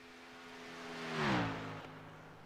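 A race car on a single-car qualifying lap in a racing video game, Team Miata's number 11 machine at Talladega, sweeps past with a rising then falling engine whine, loudest at mid-pass and fading away.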